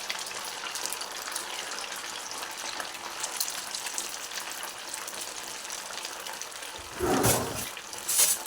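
Semolina donuts frying in hot oil on a medium-low flame give a steady, close, bubbling sizzle throughout, with a louder splashing burst near the end as the oil is disturbed; no talk.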